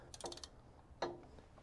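A ratchet wrench snugging down a bolt on a Clayton 3.5-inch Overland Plus lift kit, giving two short bursts of quick clicking ratchet strokes with a brief pause between them, close by.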